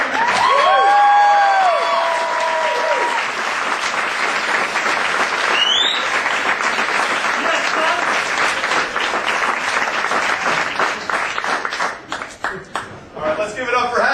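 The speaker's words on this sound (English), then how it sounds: "Start clapping right now. Make some noise for Mr. Jim McGowan." A comedy club crowd claps and cheers for a comedian, opening with loud whoops and shouts over dense applause that holds steady before thinning into scattered claps near the end.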